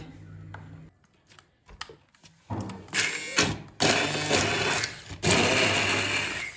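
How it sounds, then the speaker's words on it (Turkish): A blender whirs in short bursts with a whining motor drone that cuts in and out, louder in the later pulses, as orange peels are blended for a homemade drink. "Bakın gördüğünüz gibi blenderdan geçirdim."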